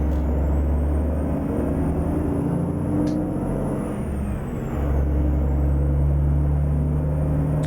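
Yellow Kenworth truck driving in American Truck Simulator, a steady loud low engine drone with rising and falling whine, a brief dip and air-brake hiss midway, then the engine resumes.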